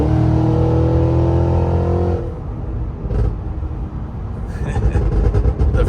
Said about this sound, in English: The freaking pops when he let off the gas, it's hilarious.